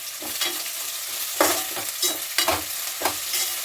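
Shahi jeera (caraway cumin) with bay leaves sizzling in hot oil in a home kitchen pan, a steady close crackle with several louder stirring scrapes spread through the few seconds, no talking.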